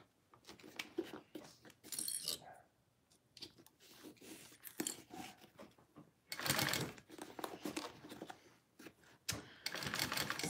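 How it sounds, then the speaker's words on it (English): A sewing machine stitches a Marcel Barrel Bag in bursts of fast mechanical chatter, several short runs and longer stretches separated by brief pauses, fairly close and moderately loud with no talking. "Sewing is hard work, Annette."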